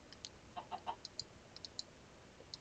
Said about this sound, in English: Ah, chicken. Lay an egg for me, baby.